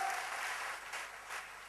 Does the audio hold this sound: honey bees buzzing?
no